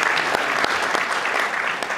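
A theatre audience at an awards night claps loudly for a ventriloquist's dummy, a dense, steady burst of applause close by that keeps going with a few sharper individual claps standing out.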